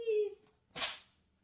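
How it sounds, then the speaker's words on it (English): A cat gives a single sharp sneeze, close and fairly loud, right after a brief vocal sound at the start. "Sneeze."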